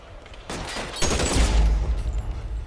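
Gunshots in the video game L.A. Noire Remastered, a police shootout with the LAPD: a short volley of cracking shots swelling into a loud, rumbling burst, then fading into low echoing noise.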